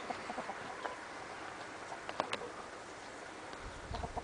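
Soft, scattered clucks from a few hens over a quiet outdoor background, with occasional scratching and rustling close by.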